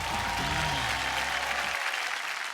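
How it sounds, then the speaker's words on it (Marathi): A studio audience on a women's game show breaks into loud, dense applause that holds steady, with a low musical or voice hum underneath during the first part. "जोरदार टाळ्या होऊन जाऊ दे. जोरदार टाळ्या."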